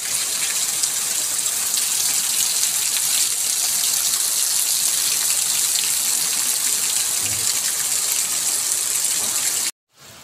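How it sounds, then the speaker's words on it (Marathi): Heavy rain pours steadily beside a house where water has pooled, a dense, loud, even wash of falling water that runs unbroken for about ten seconds before cutting off abruptly at the end. "पाऊसही खूप जोराचा चालू आहे"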